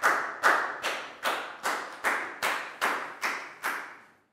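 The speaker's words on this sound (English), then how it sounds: "Big round of applause for Nadia," Year 4 pupils in a classroom clap for a classmate, about ten crisp, evenly spaced claps in a steady unison rhythm, close and clear, ending abruptly with no talking.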